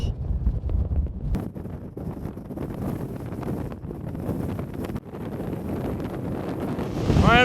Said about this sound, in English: I am sure that you can't tell what I'm saying because it's so windy